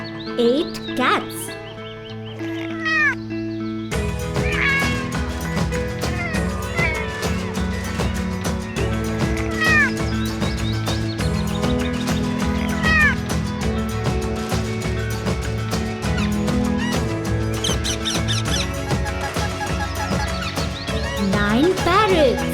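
Repeated cartoon cat meows rise and fall over busy background music in a children's counting song, several calls spread across the stretch, fairly loud and close.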